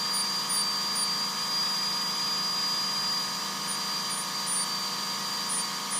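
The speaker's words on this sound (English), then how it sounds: "The friction grip ball burrs that I use for this, with a 1/16 inch shank," High-speed dental drill fitted with a friction-grip ball burr on a 1/16 inch shank grinds and textures metal, giving a steady, thin whine with a high sustained tone and constant hiss throughout, no pauses.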